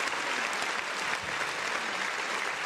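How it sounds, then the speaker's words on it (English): A dense, steady round of applause from a crowd rolls on evenly without a break, moderately loud and close, with no voices heard over it. "I'm going to give them a round of applause."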